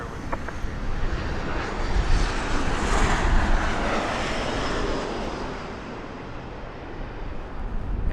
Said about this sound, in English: We got Southwest coming in hot and ready